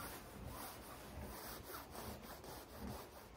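A Friesian horse is scratched by hand, giving a steady, soft rubbing and rasping sound that runs without a break for several seconds, close by and quiet, with no talking.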